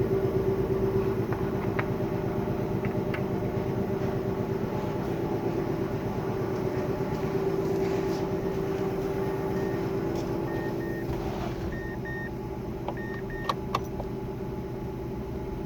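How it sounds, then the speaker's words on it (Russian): A Mazda Demio DE3FS with a 2010 ZG-VE engine and automatic 2WD idles without a muffler, a loud, steady, unmuffled drone that continues alone for the whole stretch. "Машина без глушителя, поэтому будет шумно."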